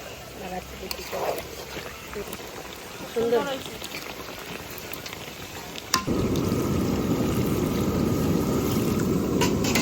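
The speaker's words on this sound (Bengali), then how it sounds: "মাংস কষানো হয়ে গেছে এবার জল দিয়ে দেবো" Water pours into a pan of sizzling cooked meat, bursting into a loud, steady hiss and bubbling after a quieter stretch with some voices in the background.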